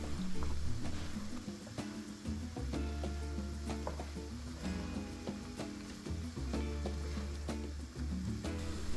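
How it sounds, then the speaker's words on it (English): Diced onion and meat sauté in a skillet with a steady, fairly soft sizzle. Music plays over the frying throughout. "Saute for about 2 to 3 minutes, then you can mix the onion in with the meat"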